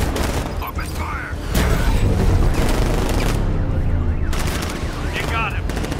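Heavy automatic gunfire in Batman: Arkham Knight, dense continuous bursts with booms and mechanical clatter throughout, loud and close, with shouting voices mixed in.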